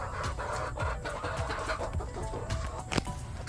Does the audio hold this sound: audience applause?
no